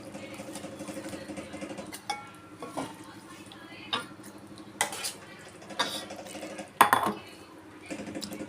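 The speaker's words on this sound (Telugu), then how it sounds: "దీన్ని సర్వింగ్ బౌల్లోకి తీసుకుందాం." A spoon scrapes and clinks against a pot and serving bowl as okra, tomato and prawn curry is ladled out, a few sharp metallic knocks over a soft background hum.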